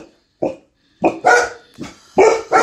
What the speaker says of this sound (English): there are my dogs.